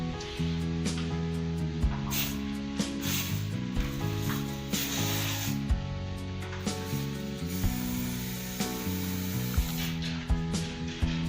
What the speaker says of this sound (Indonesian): Jadi ini kita mau semprot-semprot dulu bagian RD sama sprocketnya.